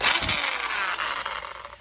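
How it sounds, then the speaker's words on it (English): A worn-out electric drill with a 1/2-inch chuck drills holes in a sheet metal front-sump LS oil pan, giving a loud, harsh, continuous grinding whine close by with no talking. "Every video I take, I keep saying that my drill is cooked."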